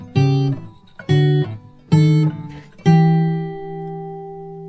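Acoustic guitar playing the two-voice counterpoint from a song, four plucked chords in a steady rhythm, the last one left ringing and slowly decaying, close and clear with no talking.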